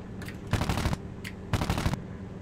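Aircraft machine guns on a Grumman F4F Martlet fighter in the IL-2 Desert Wings flight sim fire two short, rapid bursts about a second apart, each under half a second long, over a steady engine drone.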